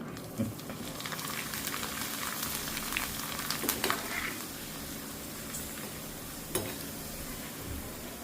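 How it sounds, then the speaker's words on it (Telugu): Cornflakes frying in a pan of hot oil make a steady, fairly soft sizzle and crackle, with a few sharper pops and clinks, and no one speaks. "ఆయిల్ బాగా కాగానే ఫస్ట్ కార్న్ఫ్లేక్స్ అయితే వేయించేస్తాను సో చూడండి నూనె కాగింది వేస్తున్నాను"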